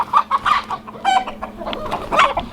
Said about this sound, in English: The chickens are still trying to figure out the new pecking order.